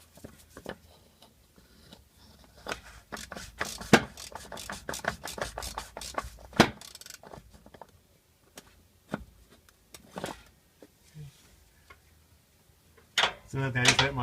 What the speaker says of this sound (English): So now I just let my socket extension go up there. I'll take my cap loose.